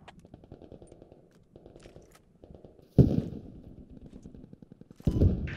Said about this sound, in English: there's a fucking 50 cal up there somewhere